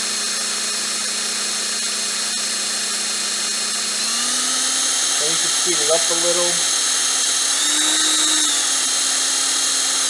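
A power drill twisting coil wire whines steadily, its pitch rising as it speeds up, with a brief spoken remark partway through.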